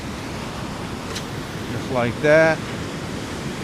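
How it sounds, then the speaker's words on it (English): Whitewash surf rolls onto a beach where anglers cast for striped bass, making a steady broadband wash with wind buffeting the microphone, while someone speaks briefly near the end. "There's the wave coming in."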